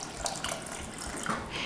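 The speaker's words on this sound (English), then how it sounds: "So I'm gonna go ahead and add about another cup of water." Running water pours close and steady from a tap into a pot of mushroom barley soup, a continuous splashing flow with no talking.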